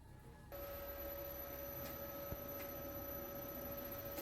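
A wood lathe holding a large vase blank starts up at about 120 to 130 rpm, its motor settling into a steady tonal hum with faint bumps and ticks, quiet and continuous with no talking.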